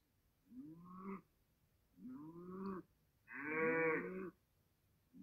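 Cattle on a dairy farm pasture moo three times, long drawn-out lowing calls fairly close and clear, the last one loudest, with quiet background in between.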